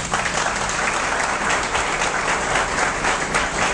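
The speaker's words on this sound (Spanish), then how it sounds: "para el que pido un aplauso también." A crowd at a political party's local office inauguration in Santo Domingo Este claps loudly and continuously, a dense, even wash of applause with no pauses.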